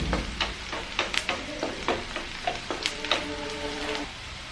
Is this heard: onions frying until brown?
yes